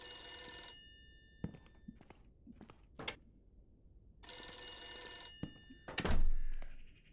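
An old-fashioned telephone bell rings twice in a 1970s-style house in a video game, each ring a bright metallic trill under a second long, separated by soft thunks and footsteps, ending with a handset being picked up.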